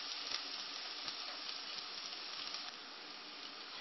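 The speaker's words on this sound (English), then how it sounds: "get it sizzling." Onions sizzle steadily in a hot skillet for a turkey skillet lasagna, a continuous close crackling hiss with no voices over it.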